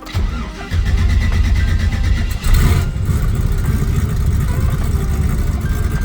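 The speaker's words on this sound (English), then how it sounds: "Nice little cold start." A car engine cold-starts with a quick crank, then catches into a loud, steady, slightly raised idle that stays close and prominent throughout.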